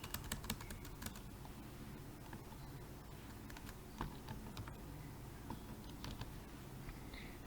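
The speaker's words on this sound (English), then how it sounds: "He just copy this script and paste here, and just type a word here" Typing on a computer keyboard while entering a word into an R script, a steady stream of light, quick key clicks with a few firmer taps, close and fairly quiet, with no talking.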